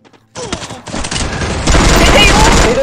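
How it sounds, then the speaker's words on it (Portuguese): Gunfire in a video game during a championship match: after a brief quiet start, dense bursts of rapid shots and fusillade build to a loud, continuous barrage. "Muito tiro!"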